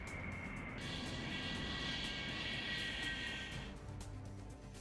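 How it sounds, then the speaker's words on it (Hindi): Fighter jets such as the MiG-31 flying during a military exercise, a loud steady roar of engine noise that holds for several seconds and then eases slightly toward the end, with no talk. "फाइटर जेट्स के जरिए अभ्यास किया जा रहा है।"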